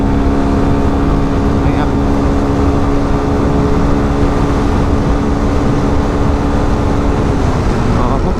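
A Kymco KRV scooter accelerates while overtaking on the road, its engine drone blending with heavy, steady wind rush, and a rider briefly speaks over the noise.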